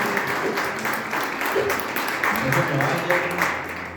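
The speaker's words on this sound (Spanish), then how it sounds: "Muy fuerte aplauso." Audience applause at a Christmas church service, a steady wash of clapping from a congregation with voices mixed in throughout.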